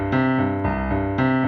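Piano left hand walking through a moving bass line, a few steady notes changing in turn under the chords, soft and close with no voices.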